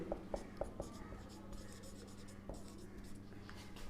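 Chalk or marker writes notes on a board in an organic chemistry lecture, with quick tapping strokes at first and then continuous scratchy scrawling, under a faint voice.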